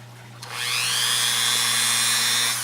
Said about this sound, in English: So I have my Dremel and my cutoff wheel.